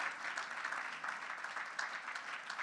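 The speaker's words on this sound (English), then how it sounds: "So a round of applause for Marilyn Crother and Art Hopkins." An audience at an awards ceremony claps steadily and densely, a sustained wash of applause at moderate distance with no pauses for its brief length.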